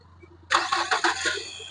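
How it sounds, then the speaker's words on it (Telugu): A 2018 Hyundai Creta SX+ automatic cranks and catches on a single start, a sudden burst of engine noise that settles into a steady close idle. "సింగిల్ సెల్ఫ్ లో బండి స్టార్ట్ అవుతుంది."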